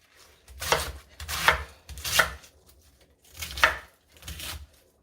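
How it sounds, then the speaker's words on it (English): A knife chops through cabbage on a cutting board in five firm strokes, irregularly spaced, each with a crisp crunch and a dull thud, close up, while preparing fufu. "I'm going to just cut up the cabbage so I can put it in my blender."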